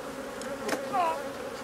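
Honeybees buzz around an open beehive during hive work, a steady low hum with a couple of brief louder passes as insects fly close by.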